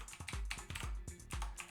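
Fingers tap out a quick run of computer keyboard keystrokes while copying and pasting code, crisp close clicks in an uneven rhythm with short pauses between bursts and no talking.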